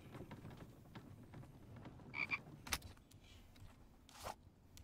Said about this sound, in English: I hear a frog somewhere.